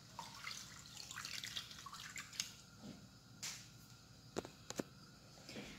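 A cup of water is poured into a cooking pot, heard as soft, quiet splashing followed by scattered drips and small liquid sounds, with no talking.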